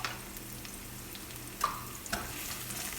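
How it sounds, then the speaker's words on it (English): Green chilies and fennel seeds frying in hot oil, a steady close sizzle with a couple of brief clinks from a stirring utensil. "Once it gets hot, add the green chilies and fennel seeds."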